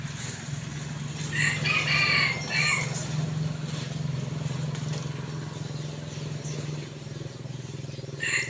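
A rooster crows loudly and close by, one clear cock-a-doodle-doo early on and a brief start of another at the very end, over a steady low background hum.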